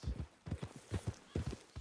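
Horse hooves clip-clopping at a steady walk in the Red Dead Redemption video game, a rhythmic series of close, distinct hoof strikes heading out toward town, with no speech over them.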